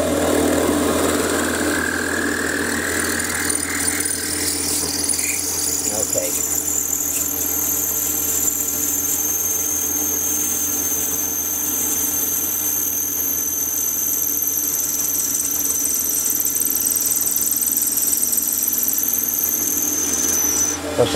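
Drill boring a 6.2 mm hole in a workshop while making a knurling tool, a steady machine hum with a rising high whine and squeal held throughout, close and continuous with no speech over it.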